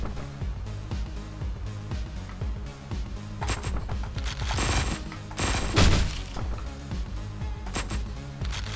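Gunfire in the video game Hotline Miami 2 comes as rapid bursts of crackling shots over a thumping game soundtrack, densest in the middle and easing toward the end.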